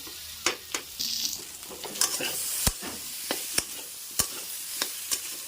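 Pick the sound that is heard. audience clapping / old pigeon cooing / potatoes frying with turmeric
potatoes frying with turmeric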